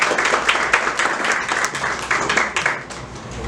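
Applause from an event audience at a cultural fanzine launch on architecture marketing, a dense, steady wash of many hands clapping close by, rising and falling slightly over a few seconds with no voices.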